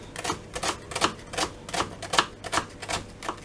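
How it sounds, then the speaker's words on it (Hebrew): A knife dices an onion into small cubes for meatballs, producing rapid, evenly spaced sharp taps on a cutting board, about three per second, close and clear with no talking. "הבצל הזה אני אחתוך אותו פשוט לקציצות, אז כמובן לחתוך קטן, קוביות קטנות"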